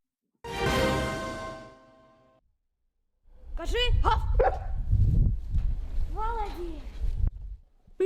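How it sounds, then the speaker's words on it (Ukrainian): A Cane Corso dog, being trained by a beginner dog handler, gives several close yips and barks after a loud opening tone, with other noise around the barks. "Кана Корсо слухняно виконує команди кінолога-початківця Марка."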